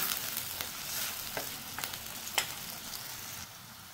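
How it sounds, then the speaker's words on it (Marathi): Chopped onion and tomato sauté in hot oil for a soya and green pea curry, giving a continuous soft sizzle with a few sharper crackles and stirring scrapes, close and moderately quiet. "कांदा टोमॅटो थोडा बारीक करून घातला ना आणि चांगला तो हे परतून घेतला ना तेलामध्ये"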